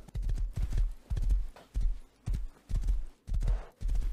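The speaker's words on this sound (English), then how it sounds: "I'm gonna take a horse to the decayed base." Horse galloping in the survival video game Rust, a steady run of heavy clip-clop hoofbeats in regular bursts, close and loud, with no voices over it.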